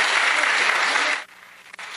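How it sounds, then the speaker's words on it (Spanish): Loud audience applause at a Lima international ufology congress, dense steady clapping that cuts off abruptly about midway, leaving a quiet room with faint stray noises. "Un fuerte aplauso para él."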